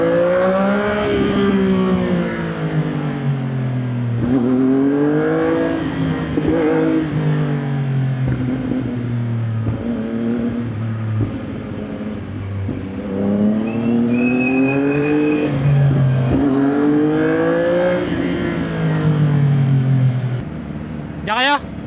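A CF Moto 675NK motorcycle with a new, louder muffler revs repeatedly, its engine pitch rising and falling in steady waves, loud and close, with voices talking over part of it.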